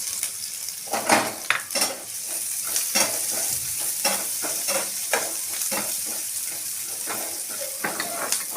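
Finely chopped onion stir-frying in a pan for Schezwan noodles, a steady bright sizzle punctuated by regular clanks and scrapes of a spatula tossing against the pan, close and clear.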